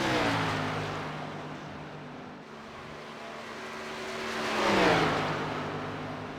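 An Xfinity stock car races around Texas in iRacing, its engine droning steadily, easing briefly as the throttle lifts, then building again in a swelling pass.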